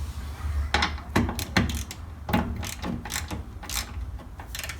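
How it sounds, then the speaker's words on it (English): A small ratchet and socket tighten a bolt on a classic Mini Clubman's bottom arm and tie bar, giving a few sharp, uneven clicks and knocks close by. "let's get a little ratchet in there if we can"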